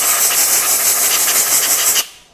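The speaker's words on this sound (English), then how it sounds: "I want to take some compressed air" Compressed air blasting out a freshly tapped threaded hole, a loud close hiss that holds steady for about two seconds, then cuts off sharply and fades.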